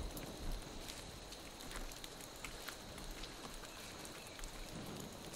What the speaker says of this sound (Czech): A hezky tady prší v té hře, to se mi líbí.